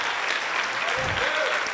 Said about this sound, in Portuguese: Eu acho que ele pode ser honrado com uma salva de palmas,